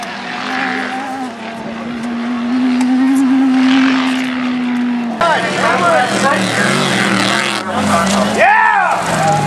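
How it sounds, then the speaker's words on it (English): Off-road race trucks, including an Ultra 4 truck, roar past with rising and falling engine whines, loud and close, while an announcer talks over the racing. "Those trucks are really fast."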